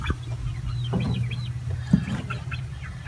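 Hens clucking inside a backyard chicken coop during egg collection, several soft and close clucks with occasional higher calls and light rustling in the background.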